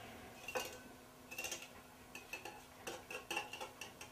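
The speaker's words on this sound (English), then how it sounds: "You want to really break those egg yolks up." Whisking eggs in a bowl to break up the yolks gives a series of light metallic clinks and taps against the bowl, in scattered bursts and then a quicker run of strokes, fairly faint.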